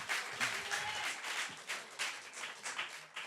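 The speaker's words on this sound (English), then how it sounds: "Clap for that." Live podcast audience clapping in a steady, fairly quiet wash of many hands, with a few voices faintly underneath.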